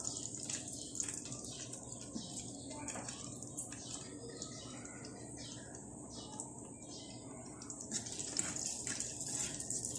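Sweets fry slowly in hot oil until dark, a soft continuous bubbling hiss with faint chirping in the background and someone speaking over it.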